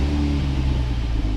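A supercharged V6 in a manual Lotus Emira, just started, settles into a steady, deep, close-up rumble with no talking over it.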